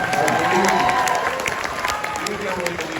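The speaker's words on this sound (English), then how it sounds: "You can applaud to that" Audience applause and some cheering at a film fan Q&A, a fairly loud burst of crowd clapping filling the room, with voices mixed in over it.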